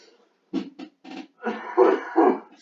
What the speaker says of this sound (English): Sorry about this, I'm coughing a lot